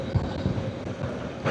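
A train passing over a railway bridge, a continuous broad rumble and rolling rattle of wagons with a brief brighter burst near the end, loud and close, no talk over it.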